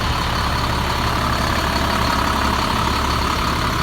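A Ford F650 crew cab hauler with a Cat diesel engine idles, a steady, dense low rumble with a constant mechanical hum, close and unbroken with no voices.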